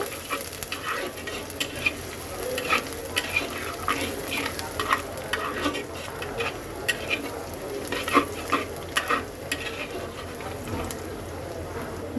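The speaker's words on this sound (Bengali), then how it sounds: "পেঁয়াজটাকে একটু হালকা ভেজে নেব" Onion fries in hot oil for a lentil and jute-leaf dish with prawns, a steady close sizzle broken by repeated scrapes and clinks of stirring against the pan.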